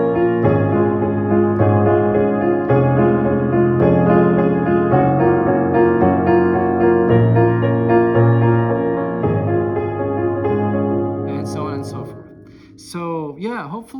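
A piano plays a song with octaves in the left hand, producing full, sustained chords and low bass notes in a slow, steady flow; toward the end the playing fades and a voice briefly speaks.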